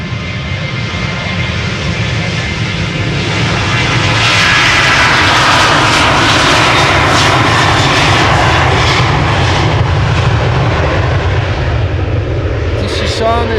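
A departing airliner at foggy Amsterdam Schiphol Airport roars close by, the jet engine noise swelling and staying loud throughout, with voices talking faintly underneath.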